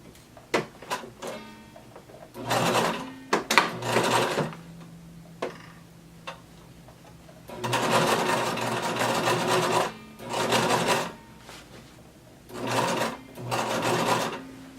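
A sewing machine understitches a halter crop top close to the seam allowance in several separate bursts of close, steady whirring, with pauses, ticks and fabric handling between runs.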